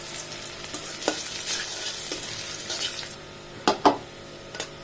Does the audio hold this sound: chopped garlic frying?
yes